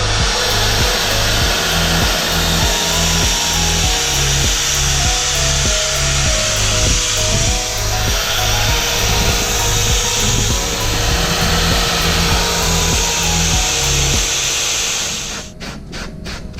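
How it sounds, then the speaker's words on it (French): A power tool trims motorcycle seat foam after cutting in an upholstery workshop, with a loud continuous motor whir and rhythmic rubbing pulses as it passes over the foam, then stops near the end. "on affine après la découpe pour enlever toutes les traces de découpe qu'on a vu ici"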